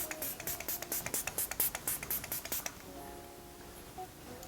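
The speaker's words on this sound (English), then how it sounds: "So let's spray." A makeup setting spray bottle fires about a dozen quick pump mists in a fast rhythm, each a short close hiss, then stops and falls quiet.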